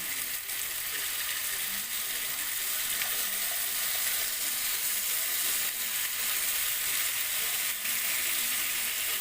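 Chicken pieces fry in a pan for chicken tikka masala, giving a steady, dense sizzle that stays loud and even throughout with no voices.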